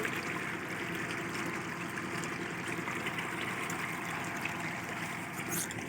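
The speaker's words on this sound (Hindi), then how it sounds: "ये पैम्प के ज़रिए हमारा पानी आ रहा है उधर से।" Irrigation pump pushing water into a date palm field, a steady, loud rushing flow with a constant low mechanical rumble underneath and no pauses throughout.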